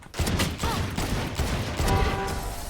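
Gunfire in the tactical shooter Valorant: dense bursts of rapid shots packed into a few seconds, loud and close, with game effects underneath and no voices.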